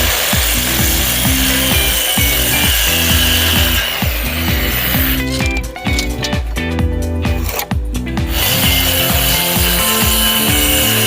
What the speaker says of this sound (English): I just go ahead and cut them on a 45-degree angle